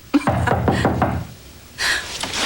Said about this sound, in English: There's somebody at the door.